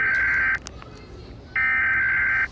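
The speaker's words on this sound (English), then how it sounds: "US alarm. This is our country." US Emergency Alert System alarm tone: two loud, steady electronic buzzing bursts about half a second and one second long, separated by a short gap with faint background noise.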